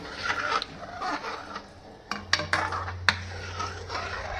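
A spoon stirs chhana in milk in a pot, giving close scraping and swishing with a few sharp metallic clinks against the pot sides, moderately quiet, with no talk.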